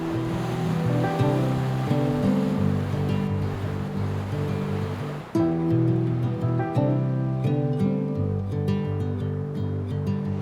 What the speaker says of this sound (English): I just love being next to the ocean.